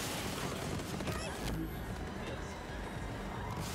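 Dense, continuous gunfire from the video game Borderlands 3 during a boss fight, a loud sustained fusillade with scattered booms running through the whole stretch.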